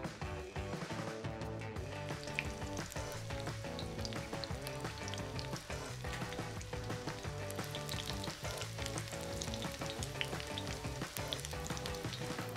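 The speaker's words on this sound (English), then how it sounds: "I'm gonna let these fry away for a few minutes per side until they are golden brown on each side" Chicken schnitzel pieces shallow-frying in a pan until golden brown, giving a soft, even, continuous crackle like light rain that holds steady throughout.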